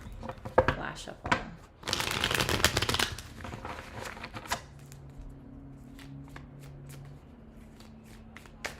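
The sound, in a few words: shuffling tarot cards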